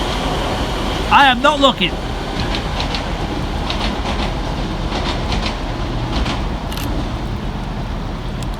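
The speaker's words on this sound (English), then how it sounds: "Working the slightly delayed 1520 ScotRail Express service from Edinburgh Waverley through to Glasgow Queen Street." ScotRail Class 170 unit 170428 pulls away from Edinburgh Haymarket, a steady rumble of rail noise and wheels with a brief squeal of wheels or brakes early on. Someone talks over it.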